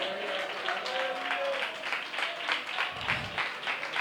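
A congregation at a Pentecostal gospel convention applauds enthusiastically, a steady wash of many hands clapping at moderate distance throughout, with voices mixed in beneath.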